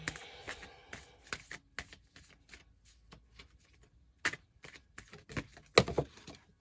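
Tarot cards being shuffled by hand: soft riffling and flicking in quick irregular bursts, quiet and close, ending with a few sharper snaps, no voice.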